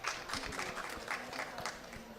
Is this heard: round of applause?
yes